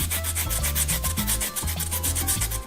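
Lemon zest being grated: a steady, rhythmic rasping of peel dragged over a metal grater in short repeated strokes, close and moderately quiet with no talking.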